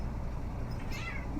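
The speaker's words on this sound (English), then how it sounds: "If you can hear the kitten meowing like that." A kitten mews faintly once or twice over low background rumble, the small cry rising briefly near the end.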